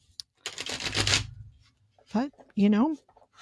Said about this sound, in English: I have shuffled and shuffled and shuffled it.